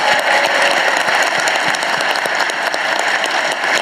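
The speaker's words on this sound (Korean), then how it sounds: "박수 한번 보내주십시오." Audience applause at a political gathering in Cheongju, Chungbuk, held with President Lee Jae-myung: dense, steady clapping from a large crowd filling the room, loud and continuous throughout with no talk over it.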